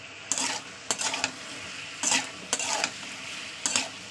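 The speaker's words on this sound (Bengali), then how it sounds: "গোটা জিরে দিয়ে আলুটাকে দিয়ে দিলাম, দিয়ে একটু অল্প লবণ আর হলুদ দিয়ে দিয়েছি, দিয়ে ভালো করে আমি তেলের সঙ্গে মাখিয়ে নিচ্ছি" Potatoes with whole cumin, salt and turmeric are stirred into hot mustard oil, giving a steady sizzle broken by several scraping strokes of a spatula against the pan, close and fairly loud.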